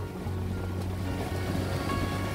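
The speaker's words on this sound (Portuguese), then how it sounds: "praia maravilhosa aqui na Península de Maraú." Ocean surf rolls onto the beach at Itaipu de Fora on the Península de Maraú, a steady broad wash of waves mixed with wind rumble, continuous and fairly loud with no voices.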